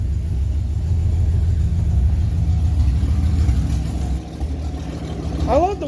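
An old vehicle that has sat unused for a while runs after starting, its engine a loud, steady low rumble with slight revving. A person talks briefly near the end.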